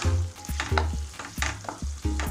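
Chicken handi being stirred in a pan just after garam masala goes in: about five rhythmic scraping strokes over a steady low sizzle, close and clear, with no talk.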